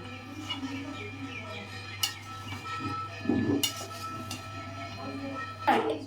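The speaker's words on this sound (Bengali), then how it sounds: "খিচুড়িটা হাফ হয়ে গেছে, এখন মাংসটা এর ভিতরে দিয়ে দেব। মাংসটা দিয়ে দেব, এবার মিক্স করে দিলাম।" Meat being stirred into half-cooked khichuri in a pot, with a spoon scraping and clinking against the metal in a few sharp knocks over a steady low hum of background noise.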